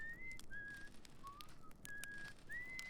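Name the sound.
character whistling in Outer Wilds video game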